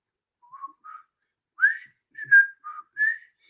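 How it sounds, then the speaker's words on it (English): Short whistled notes from a single person, close and fairly soft, in a halting phrase of brief chirps and a few brighter sliding tones, with small gaps between them and no talk. "I catch that whistle every now and then."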